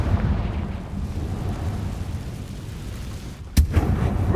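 A Confringo blasting spell in the game Hogwarts Legacy sets off heavy, rumbling booms, with a low roar throughout and a sharp burst near the end.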